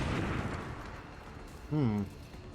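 A shaped charge detonates in XCOM 2 Long War of the Chosen, a low, rumbling blast at the start that fades over about a second, followed by a short burst of a voice.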